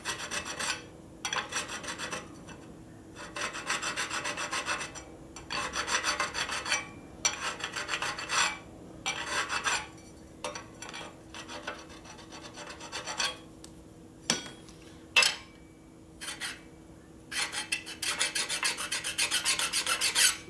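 A hand file rasps paint and burrs off engine metal on a 1972 1000cc Harley Ironhead Sportster, close and steady, in repeated rhythmic bursts of strokes separated by short pauses.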